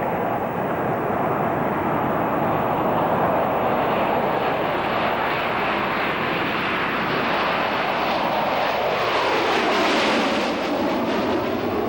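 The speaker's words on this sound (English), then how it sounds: "What was needed was this unbelievable aircraft. The B-2 stealth bomber." A B-2 stealth bomber passes with a loud, continuous engine roar and whine that builds, then shifts in pitch as it goes overhead, with no voices.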